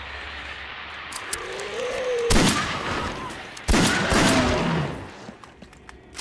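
Two sharp, loud pistol shots in the video game Silent Hill Homecoming ring out a second apart against a low background hum, each with a short echoing tail.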